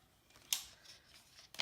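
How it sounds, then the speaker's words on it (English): Metal scissors picked up during a hair-cutting demonstration: a quiet sharp metallic click and rattle, then a second brief clack a moment later, faint and close with no talk. "I'm going to take my scissors"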